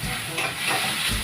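Garlic, onion and tomato sauté in hot oil with a steady, close sizzling hiss that runs unbroken through the brief moment, with no voices.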